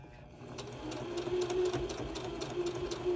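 Sewing machine stitching fabric seams, a close, steady rapid mechanical whir with regular needle ticks, continuous through the short run without pause.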